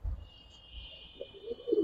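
Pigeons at a bird market coo softly in a low, throaty murmur that swells toward the end, over a faint steady background hum.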